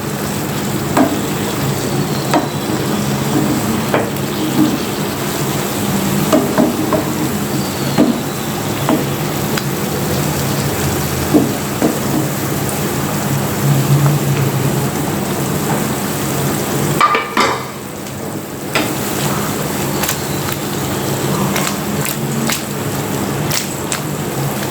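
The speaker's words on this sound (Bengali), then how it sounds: "কিছুক্ষণ পর ঢাকনা উঠিয়ে আমি সবজিগুলোকে নেড়েচেড়ে দিচ্ছি।" Vegetables for a potato and pangas fish curry sizzle steadily in a pan and are stirred, making a continuous close frying hiss with small scraping stir sounds and a short lull partway through.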